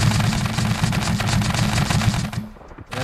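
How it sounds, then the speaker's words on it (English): Rapid, continuous automatic firing of potato guns on a vehicle build in the video game Scrap Mechanic, a dense loud rattling burst that cuts out briefly near the end before resuming. "There's so many potatoes being sent off this thing."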